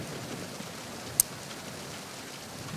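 Steady soft rain hiss in the Metal Gear Solid 2 game, even and continuous throughout with one brief sharp tick partway through, no voices.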